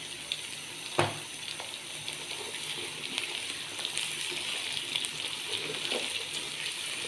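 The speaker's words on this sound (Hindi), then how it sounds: "अब हम इन दोनों सब्जियों को तकरीबन 4 से 5 मिनट के लिए फ्राई कर लेंगे" Chopped carrots and potatoes frying in a pan, a steady close sizzle and hiss throughout with a few scattered clicks of stirring, no talking.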